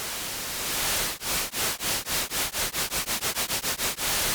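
Hissing noise that starts steady, then breaks into rhythmic pulses that speed up, a sweeping comb-filtered whoosh from a frequency shifter with regular dips, ending in continuous hiss.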